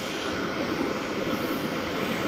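A powerful engine runs close by as a loud, steady roar filling the whole clip without a break, with no voices over it.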